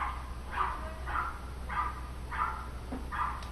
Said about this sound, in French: Je sais pas si vous entendez le chien de mon voisin.